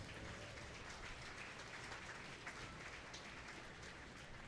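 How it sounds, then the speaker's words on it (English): An audience in a 4-H beef show arena applauds breed champions, a wash of many hands clapping at a distance, even and continuous, fairly faint. "Let's give all these breed champions a round of applause."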